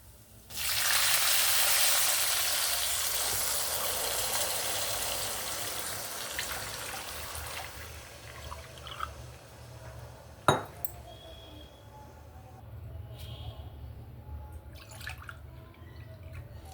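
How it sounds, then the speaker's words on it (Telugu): Water is poured from above into a cooking pot on the stove for making undralu, a loud, steady splashing rush that gradually softens and fades into quiet, with a few light metallic clinks near the end. "ఇప్పుడు నేను నీళ్లు పోస్తానండి."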